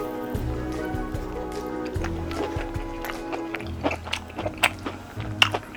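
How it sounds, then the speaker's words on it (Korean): Close, crunchy chewing of air-fried crispy pork belly with kimchi and mushroom, irregular bites and soft mouth noises, loud against a quiet background, no talking. "요거를 김치랑 버섯 한 개 이렇게 해서 한번 먹어볼게요"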